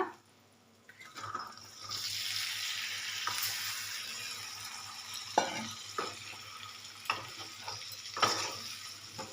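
Dhaba-style chicken fry with ginger paste and spices sizzles steadily in a pan, a close broadband hiss with occasional scrapes and clinks of stirring, and no voices.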